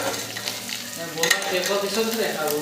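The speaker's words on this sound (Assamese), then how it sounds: "এইফালে হাজৰিকাই মাংস বনাই আছে তাৰ লোকেল ষ্টাইলত" Meat cooks in a home-kitchen pan in a local style. It gives a steady sizzle and frying hiss with scraping stir strokes and occasional clinks, close and fairly loud throughout.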